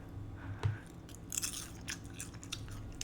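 Crunchy spinach chips are bitten and chewed close up, with a sharp first crunch followed by quieter, irregular crackling chews in a hushed room.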